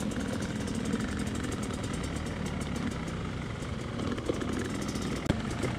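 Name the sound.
motorcycle engine riding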